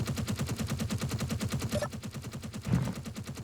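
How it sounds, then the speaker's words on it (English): Rapid automatic gunfire in Space Engineers on a planet surface, a loud, steady stream of closely spaced shots rattling continuously without a break, heard alone. "that gunfire is really, really loud"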